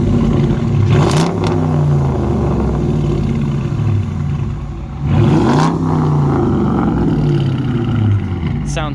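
A 2019 Dodge Challenger R/T Hemi with its rear mufflers deleted and Dynomax race mufflers fitted revs loudly two or three times, each rise and fall of the engine clearly separated, with a deep idle rumbling between the revs.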